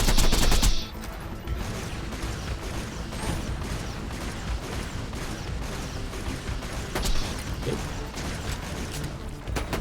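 Enemy gunfire in Borderlands 2, sustained rapid shots and mechanical clatter running nonstop, with a louder burst at the start and scattered sharper cracks throughout.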